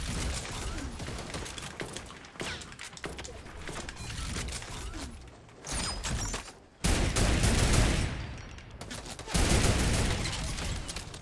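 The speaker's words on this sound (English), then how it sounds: "My gun is shooting automatically." A gun fires automatically in the Fortnite video game, dense rapid bursts of gunfire with mechanical clatter, loudest in sustained volleys near the end, with little talk.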